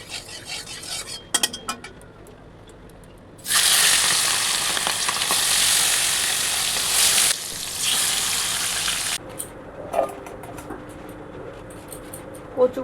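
Fish dropped into hot oil in a home kitchen, a loud sizzle bursting up suddenly and holding for several seconds before easing back, with utensil clinks and a voice nearby.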